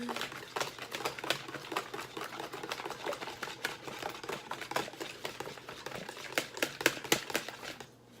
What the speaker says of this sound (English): And then you're gonna whisk that together.